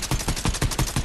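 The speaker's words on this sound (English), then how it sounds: "Now I get to use my charged shotgun." A charge shotgun in Fortnite fires in rapid, evenly spaced punchy blasts, loud and close, over about a second.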